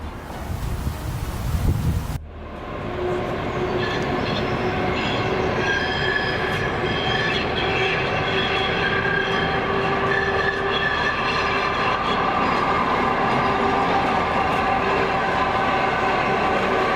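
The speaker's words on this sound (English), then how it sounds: "The historic Kaiser wagon travels beneath the tracks of Wuppertal's suspended railway, creating one of the world's most unique rail experiences." The historic Kaiser wagon of Wuppertal's suspended railway rumbles along loudly and continuously beneath its overhead track. Tonal squeals and a whine ride over the steady roar, with wind buffeting the microphone, and a brief different noise opens the sequence.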